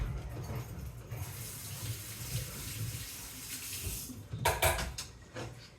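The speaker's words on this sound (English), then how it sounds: "I'm going to rinse this out." Tap water gushes steadily into a kitchen sink while a container is rinsed out, ending with a few brief splashes and clatters.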